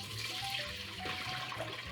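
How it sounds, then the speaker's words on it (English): Hot water running and splashing into a mixing bowl in a home kitchen, a steady close pour with a continuous watery rush and no talking. "I have my mixing bowl, which I've put some hot water into it"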